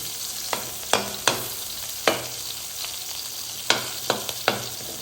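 Shallots and onions frying in a pan, an even hiss of sizzling oil broken by several sharp spatula clacks against the pan, close and moderately loud, with nobody speaking.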